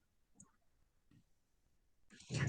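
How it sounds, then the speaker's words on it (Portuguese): Computer mouse clicks during spreadsheet work in LibreOffice, a few sparse, faint taps spread apart in a quiet room, followed by a louder burst of noise at the end. "Vão com o mouse, clica no 250, arrasta até o 200."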